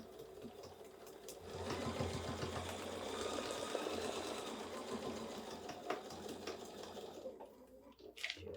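Sewing machine stitching pieces of fabric together for a foundation paper piecing quilt block, a steady close mechanical whir with a rapid needle rhythm running continuously for several seconds, no talking.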